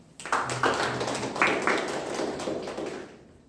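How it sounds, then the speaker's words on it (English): Clapping at a Toastmasters club meeting, a short burst of several hands clapping nearby, fairly quiet, fading out after a few seconds with no talk over it. "Clap."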